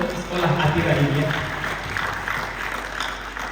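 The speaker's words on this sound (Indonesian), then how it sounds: "Tepuk tangan untuk sekolah Atira ini ya." Applause for a school from an audience at an Islamic middle school student council inauguration in Makassar fills the room as a steady, moderately loud patter of clapping that gradually thins out.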